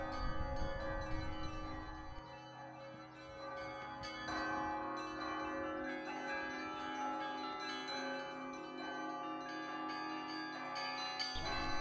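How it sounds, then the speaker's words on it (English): Orthodox church bells rung by hand from a monastery tower in Suzdal on Easter, overlapping resonant peals with sustained ringing tones that continue steadily throughout, moderately distant. "How beautiful was the sound of the bells."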